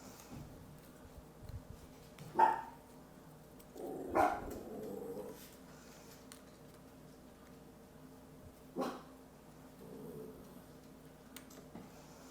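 Several short barks from a dog, coming from another room or some distance away, sound in separate bursts over a quiet indoor room with no talking.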